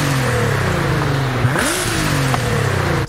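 A Nissan Z (2023) engine in Forza Horizon 5 drones loudly and steadily, its pitch dipping and then climbing again as it revs, with a throaty exhaust note throughout.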